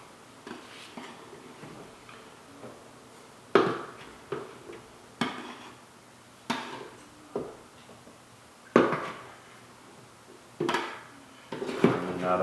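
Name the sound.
mixing dry ingredients for pizza dough in a bowl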